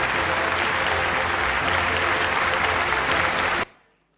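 Dense, loud applause from an awards-ceremony audience greeting a silver winner at a health and wellness marketing awards night, steady throughout before cutting off abruptly into near silence.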